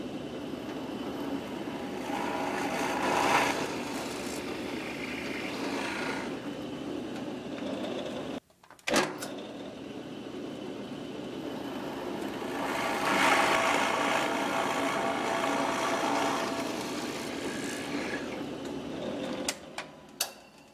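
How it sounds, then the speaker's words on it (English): Drill press boring two holes in a wooden tenon for a tenor guitar, a steady motor whir with bit grinding, a brief stop partway through, then the machine running again before winding down. "I'll take this over to my drill press and drill these 2 holes."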